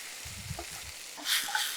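Potatoes sautéing in a pan over a low flame for a village-style egg and potato fry, a soft steady sizzle with a faint stirring scrape and a brief brighter crackle partway through.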